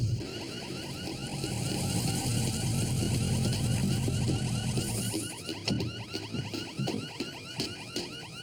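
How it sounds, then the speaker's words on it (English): Several car alarms sound at once, outdoors at night: a dense, loud wall of overlapping warbling and pulsing sirens that continues steadily and becomes more choppy and staccato toward the end. "Set all the alarms off."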